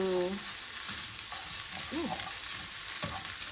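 Vegetables with garlic and herb seasoning fry in a pan as they are stirred, giving a loud, steady sizzle throughout with a few soft scraping strokes.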